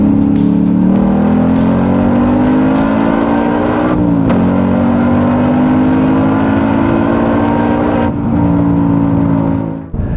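A stock Ford Mustang Mach 1 engine drones steadily at high revs on a race track, the pitch rising and dipping slightly as it drives, with a brief drop in note along the way.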